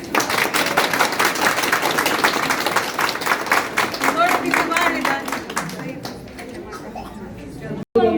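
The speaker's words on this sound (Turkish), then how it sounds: "kocaman bir alkış alalım" A crowd applauds steadily at a women's counselling centre opening in Atakum, Turkey, with dense, continuous clapping, loud and close, thinning out near the end.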